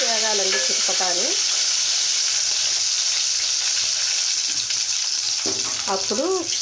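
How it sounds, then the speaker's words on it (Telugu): Mustard seeds splutter and crackle in hot oil while tempering for a Telugu dal with tender tamarind leaves, a dense, loud sizzle running throughout as someone speaks briefly at the start and end. "ఆవాలు వేగాలండి చిటపటాని"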